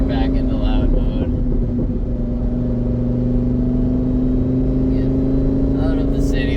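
A Lamborghini Huracan with an HD Tuning 670 hp tune and its exhaust in loud mode drones steadily from inside the cabin, a low constant engine hum under brief voices.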